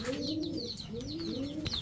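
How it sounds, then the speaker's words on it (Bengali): A pair of Bagha pigeons coo in a steady, rolling rhythm, several low throaty calls repeating close by, with faint higher chirps from other birds in the background and no talk. "এখন দেখাবো এক জোড়া বাঘা কবুতর"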